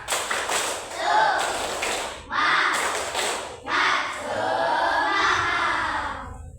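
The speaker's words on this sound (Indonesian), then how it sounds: "Kita tepuk semangat dulu sebelum diakhiri pelajaran." Schoolchildren in a classroom perform a rhythmic spirit clap at the end of a lesson, loud bursts of clapping and shouted chants in three or four close groups.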